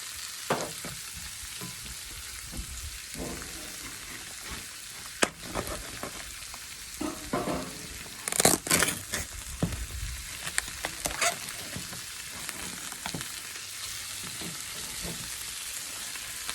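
Tomatoes with salt and pepper frying in a pan, a soft continuous sizzle broken by scattered stirring clicks and a louder clatter midway.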